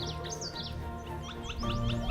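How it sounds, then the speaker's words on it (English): A Wilson's warbler calls at a birding spot in Patagonia, Arizona, with several short, high chirps scattered across the moment. Other faint bird notes and a steady low background hum sit beneath them. "Oh look, another Wilson's warbler."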